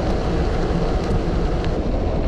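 Strong headwind buffets the microphone of a cyclist riding a road, producing a continuous loud rumbling roar with no break and no voices.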